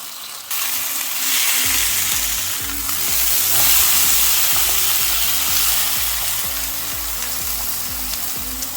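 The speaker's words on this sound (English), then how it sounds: "we're going to carry on cooking it until it's gone nice and crispy on the outside" Meat sizzles and crackles steadily in a hot pan, a dense continuous hiss with occasional spatters, close and fairly loud.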